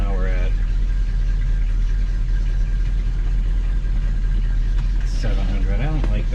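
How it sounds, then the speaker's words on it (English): A Mopar engine fitted with a GM HEI ignition idles in park, a steady low rumble that holds throughout while someone talks over it near the end. "idling in park, because once I drop it into gear, it used to always go down a few hundred RPM"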